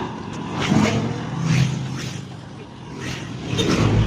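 A repaired Honda TMX155 motorcycle engine running steadily nearby, with a rough mid-pitched drone that swells and eases in a few gentle revs.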